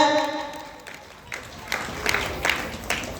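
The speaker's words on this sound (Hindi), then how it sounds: "जोरदार तालियां हो जाए" Scattered clapping from a crowd at a school annual prize distribution breaks out in a few uneven bursts after a short spoken stretch, fairly faint and a little distant.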